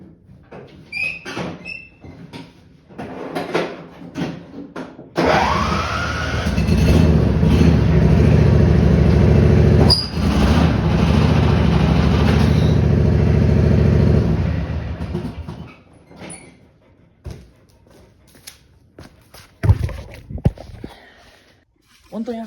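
Simplicity snowblower engine starting up and running with a steady loud rumble for about ten seconds, then cutting off, with handling noises and someone talking before and after.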